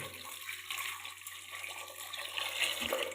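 Water runs steadily into a pressure cooker holding yam pieces, a soft continuous splashing stream, fairly quiet and with no voices.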